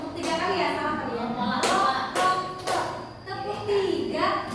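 A group of children claps in a classroom activity, several sharp bursts of many hands striking together, close and distinct, with someone talking between the claps.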